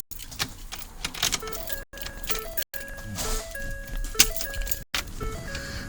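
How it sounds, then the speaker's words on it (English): An OEM key goes into the ignition of a 2011-2014 Ford F150 and turns to the on position. Keys jangle and rustle close by while the truck's warning chime plays repeated stepped tones, broken by brief silences. "we're going to take the OEM key, we're going to place it in the ignition and turn the ignition to the on position."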